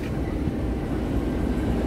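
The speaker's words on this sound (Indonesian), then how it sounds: "Oke bro, kereta api lokal Bandung Raya sudah sampai di stasiun Kiara Condong" A local Bandung Raya commuter train, a single carriage, rolls into Kiara Condong station with a steady low rumble, close and continuous and without voices.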